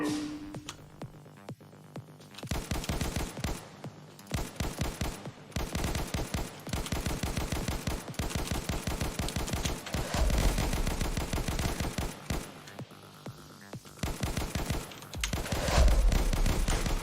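Enemy shotguns fire in a video game playtest, rapid booming shots clustering into near-constant volleys for the whole stretch, loud and close with dense overlapping blasts.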